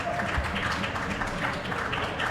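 A crowd applauds at the Pennsylvania Open pool finals, a steady patter of hand claps at moderate loudness that carries evenly throughout without pause.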